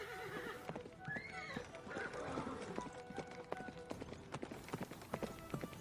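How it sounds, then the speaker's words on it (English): A horse gallops with rapid clip-clop hoofbeats and a whinny, fairly faint and somewhat distant, forming part of a staged scene in an Easwaramma Day 2024 performance. "It sounds like galloping."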